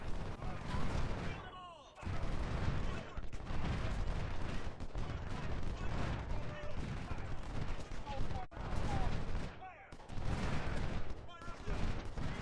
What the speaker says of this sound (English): that artillery is just doing a lot of damage to my army